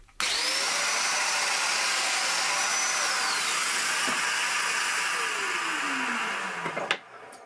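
A Festool Domino joiner cutting mortises in a walnut leg for a mid-70s style footstool whirs up sharply and holds a steady high-pitched motor whine with a bit of plunging, close and loud, ending in a clack.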